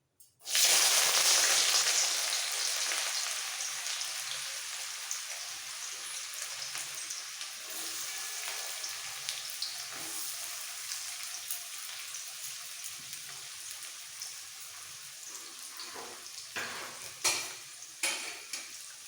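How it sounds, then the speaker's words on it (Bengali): A large chopped onion, added with green chili after cumin, fries in a pan with a loud, steady sizzle that eases over time, with scattered scraping stirs growing more frequent near the end. "এবার পেঁয়াজটা লাল হওয়া পর্যন্ত একটু ভাজতে হবে"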